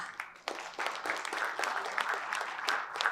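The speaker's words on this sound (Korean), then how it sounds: "다시 한번 연대의 박수를 부탁드리겠습니다" An audience applauds at the 2024 Human Rights Day ceremony in Korea marking the 76th anniversary of the Universal Declaration of Human Rights, honoring award recipients with sustained, moderately distant clapping that swells after a brief opening.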